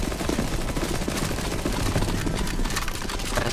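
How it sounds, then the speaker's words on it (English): Dense automatic gunfire in CS:GO Zombie Escape on the MindTree map, players shooting at crystals, a continuous loud chatter of many overlapping shots throughout. "Okay, shoot the left side, left side, left crystal path"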